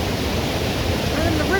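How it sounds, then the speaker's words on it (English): A river rushes over titanium-grey, moss-covered rocks at a waterfall in torrential autumn rain, producing a loud, continuous broadband roar of water with faint voices barely audible underneath. "And then the river just rushes down over these rocks."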